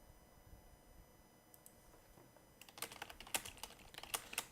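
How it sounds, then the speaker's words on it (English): Typing on a computer keyboard, quiet at first, then a rapid, close burst of clicking keystrokes in the final two seconds, soft overall with no talk. "Sorry, I'm just typing my IM."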